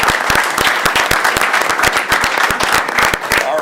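A close, loud round of applause for parents and families at a season-end celebration, with sharp individual claps standing out over a denser crowd clapping.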